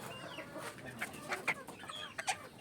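Young cockerels cluck and make short calls in a backyard flock, a series of brief, soft, irregular clucks at moderate distance over quiet outdoor background.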